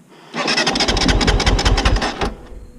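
Kove 450 rally motorcycle engine cranking with a fast, rattling mechanical churn lasting about two seconds before cutting off, close and fairly loud with no voices.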